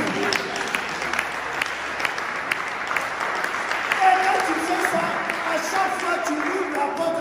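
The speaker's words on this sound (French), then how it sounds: "Est-ce que quelqu'un peut acclamer Jésus?" A church congregation applauds and cheers for Jesus during a French-language sermon, with dense, sustained clapping and crowd noise filling the hall from start to finish.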